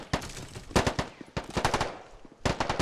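Bursts of video-game gunfire from a World War II battle in Men of War: Assault Squad 2, loud rapid machine-gun volleys in several clusters separated by brief lulls, with no talk.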